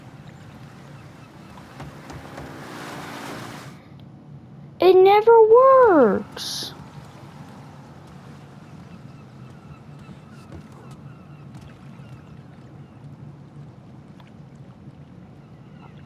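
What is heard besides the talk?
boat on water in a video game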